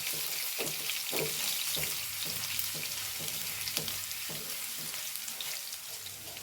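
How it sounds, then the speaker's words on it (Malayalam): Ginger and garlic fry in oil in a pan for a yogurt and green chili curry, giving a steady sizzle. A spoon stirs through it with regular scraping strokes. "കുറച്ച് വെളുത്തുള്ളി ഇട്ട് കൊടുക്കാം ഇഞ്ചി വെളുത്തുള്ളി ഒന്ന് മൂത്ത് വരട്ടെ കേട്ടോ"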